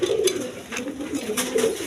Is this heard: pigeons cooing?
yes